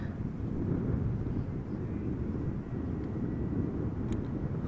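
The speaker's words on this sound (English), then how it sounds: "This is another Vueling A320 arriving from Alicante" A Vueling Airbus A320 airliner arrives at Amsterdam Schiphol in gusty crosswind, its steady low engine roar rumbling continuously from a distance under wind buffeting on the microphone.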